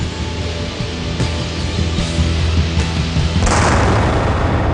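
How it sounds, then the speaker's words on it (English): Gunpowder burning in the open air gives a deep rumbling roar with a few sharp pops, then swells into a louder, broader whoosh near the end, close and without speech. "The trouble with gunpowder, though, is that if you burn it in the open air, well, this is what happens."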